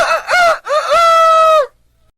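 A rooster crows close and loud, a short opening note and a longer drawn-out cock-a-doodle call, then silence.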